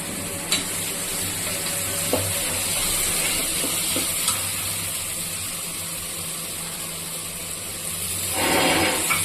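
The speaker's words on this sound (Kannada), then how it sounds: "ಸ್ವಲ್ಪ ಇದು ಫ್ರೈ ಆಗಬೇಕು" Egg fries in a pan for soya paneer pulao, giving a dense constant sizzle close to the listener, with a few light clicks of stirring and a louder burst of crackling at the very end.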